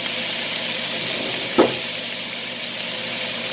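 Meat grilling in a pan on the stove, a steady close sizzle with one brief knock or scrape partway through, no voices.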